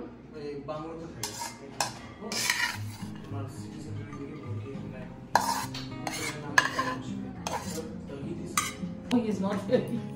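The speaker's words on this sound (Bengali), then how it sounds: "ভাত বেড়ে দিচ্ছি ওদেরকে" Rice is served onto plates at home in Siliguri, with irregular clinks, scrapes and taps of serving utensils against dishes, close by and fairly quiet, with soft voices in the background.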